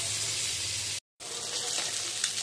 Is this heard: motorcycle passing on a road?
no